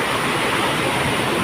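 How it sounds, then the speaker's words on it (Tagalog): Heavy rain from Typhoon Carina pours down in Pasig City, a dense, steady roar of water that stays loud and unbroken throughout, with no voices. "Ang lakas ng ulan na dito."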